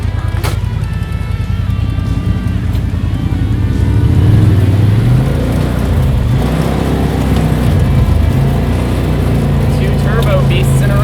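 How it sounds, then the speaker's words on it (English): A 2017 Can-Am X3 turbo side-by-side rumbles along an off-road ravine trail, its engine droning steadily and rising in pitch midway, with other machines nearby and a steady low roar throughout. "We'll get a good chance to follow this 2017 Can-Am X3 here for a while now"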